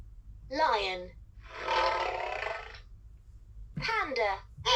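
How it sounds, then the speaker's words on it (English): A talking toy book plays a recorded lion roar: one loud, sustained roar of about a second, set between short bursts of a recorded voice, with a low background hum. "Lion."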